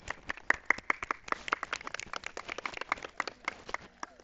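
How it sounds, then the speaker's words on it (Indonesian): A classroom of students applauds a student group, a small crowd of hands clapping close by in uneven, distinct slaps that keep going for several seconds. "Tepuk tangan."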